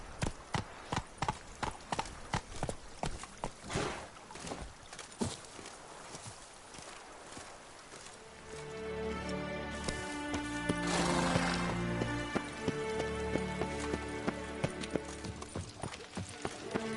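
Steady clip-clop hoofbeats from Roach, the horse in the Witcher 3 video game, trotting at a close, even pace; after about eight seconds, sustained game music and ambience swell up beneath the continuing hooves.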